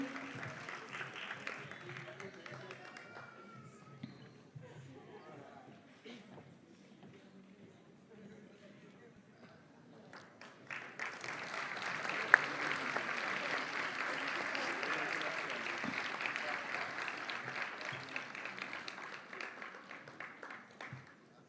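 A Brazilian audience applauds award winner Guilherme at a writing and drawing prize ceremony, with quiet murmuring and scattered chatter giving way midway to steady, broad clapping that holds to the end.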